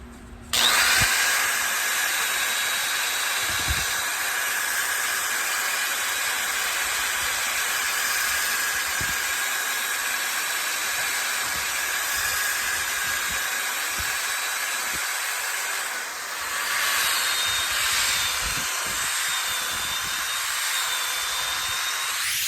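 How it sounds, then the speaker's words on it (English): Steady, loud whine of a power sander running continuously on a square walnut and cherry wooden bowl, working through grits from 80 upward, with a brief dip in pitch partway through before resuming. "we'll be sanding from 80 up to 400"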